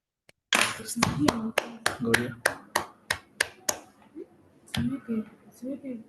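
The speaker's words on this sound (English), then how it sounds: "Can we give a round of applause to Professor DeWitt?" Handclaps for a professor at an online community development webinar: about ten sharp, evenly spaced claps ring out close and clear, then voices take over.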